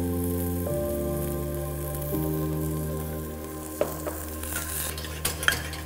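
Sweetcorn stir-fried in melted butter, tossed for a Chinese-style sweetcorn soup, giving a steady close sizzle with a few clinks and stirring scrapes toward the end, under a constant background hum.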